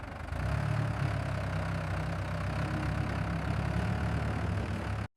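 A tractor engine runs steadily in a farm field during plowing, a loud, continuous low rumble that holds even throughout before cutting off at the end.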